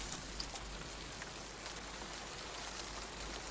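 Steady, dense rain falls continuously, a loud even hiss with scattered drop patter and no voices.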